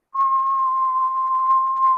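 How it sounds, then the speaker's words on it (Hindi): A single steady whistled tone held for about two seconds, clear and close, with no other sound around it. "पर अगर मैं सीटी बजाता हूं तो वहां पे सिर्फ एक फ्रीक्वेंसी प्रेजेंट है"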